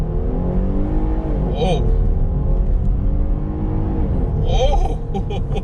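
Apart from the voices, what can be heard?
truck engine revving while accelerating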